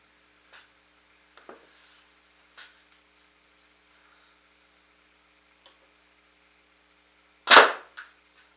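A Proto Matrix Rail paintball marker on a new tank fires one loud, sharp pop over a chronograph, with a quick smaller echo-like tap right after. Faint clicks and taps come before it in an otherwise quiet room.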